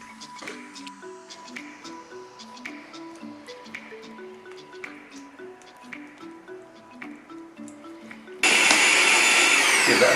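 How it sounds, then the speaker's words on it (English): A blender blitzes coconut cream for a homemade Thai green curry. It starts abruptly near the end and runs loud and steady, after a stretch of quieter kitchen sounds and soft music. "Give that a good old blitz."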